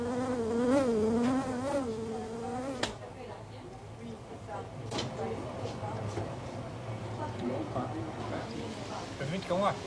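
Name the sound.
big bluebottle fly buzzing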